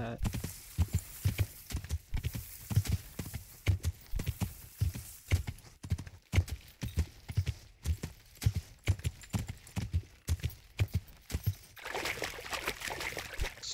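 Close, rhythmic hoofbeats of a horse walking in a video game, steady clip-clop pulses throughout, with a brighter splashing, watery texture taking over in the final seconds.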